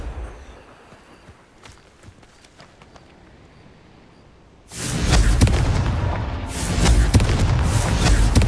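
A Confringo fire spell detonates in the Hogwarts Legacy video game, a sudden loud broadband blast that cuts in after quiet, faint footsteps and then roars on as a sustained rumbling, crackling burst to the end.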